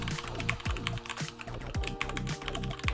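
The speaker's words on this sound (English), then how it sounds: "When I started typing, it was such a nice change." Fast typing on a mechanical keyboard, a dense, rapid stream of crisp clacking keystrokes heard up close with no talking.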